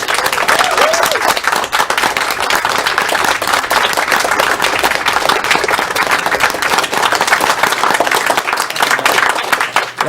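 Dense, steady applause from a large audience at a speedrunning marathon event, continuous clapping filling the whole stretch at a loud, even level.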